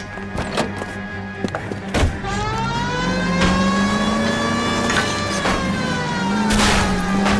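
A car crashes through a backyard in the video game L.A. Noire, with thuds and whacks of impacts over a revving engine whose pitch rises and falls as it accelerates.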